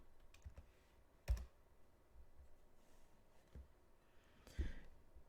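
Clicks of a computer keyboard being typed on, a few sparse faint taps with two stronger keystroke bursts, quiet and close with no talking.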